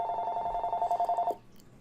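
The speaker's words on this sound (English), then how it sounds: "Apologize for my phone ringing away." A phone rings with a rapid warbling electronic trill, steady and fairly loud for over a second, then cuts off abruptly into quiet room tone.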